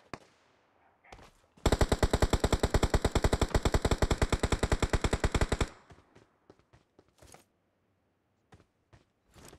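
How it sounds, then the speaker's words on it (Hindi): Sustained automatic gunfire in a BGMI mobile battle royale match, a loud rapid burst of about four seconds with evenly spaced shots, followed by a few scattered single shots and quieter clicks. "देखे गोली चल रही"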